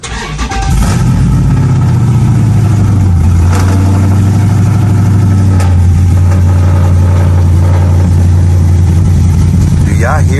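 Recorded from inside an SRT car with an aftermarket cam and a fresh tune, the engine starts and then settles into a loud, lumpy, choppy idle that rumbles steadily for about ten seconds.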